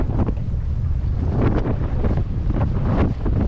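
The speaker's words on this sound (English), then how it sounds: "that's a gust." A strong wind gust sweeps over a choppy lake beside a moored lugger, with loud buffeting roar and rushing waves for a few seconds, and no talk.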